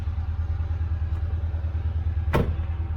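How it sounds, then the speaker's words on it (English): A Kawasaki Mule Pro FX utility vehicle engine idles steadily nearby, a low continuous rumble with a brief sharp noise partway through. "So this thing, you guys, has been idling right now for probably about 45 minutes."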